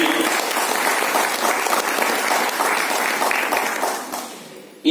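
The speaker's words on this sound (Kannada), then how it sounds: "ಅವ್ರಿಗೆ ಇನ್ನೊಂದ್ಸಲಿ ದಯವಿಟ್ಟು ಚಪ್ಪಾಳೆ ಬರ್ತೀವಿ" Audience applause at a felicitation event, a dense, sustained burst of many hands clapping that fades out near the end.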